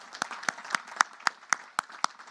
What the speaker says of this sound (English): A big round of applause for your parents.